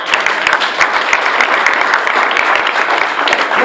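A wedding congregation bursts into sustained applause in a church after a prayer, many hands clapping densely and loudly for the whole stretch with no break.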